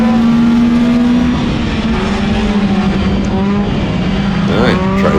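A race car at Willamette Speedway with an extremely loud muffler roars past at close range, a harsh, saturated engine drone that shifts pitch as it accelerates, with tire noise beneath.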